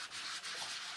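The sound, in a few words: sanding with wet and dry sandpaper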